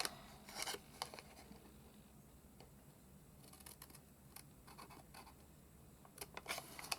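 Scissors trim through paper in short bursts of crisp snips and rustles, with quiet pauses between cuts, close and faint, no talking.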